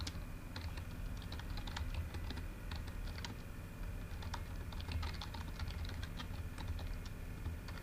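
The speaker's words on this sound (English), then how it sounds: "So type the question text there." Computer keyboard typing while entering question text for a Moodle quiz, with irregular bursts of light key clicks over a steady low background hum, no voices.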